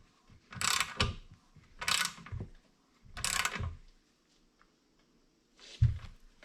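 A wrench or ratchet turning a nut on a Corvair suspension stud, drawing a part forward like a press: four separate bursts of ratcheting mechanical clicks, close and fairly loud, with short pauses between them.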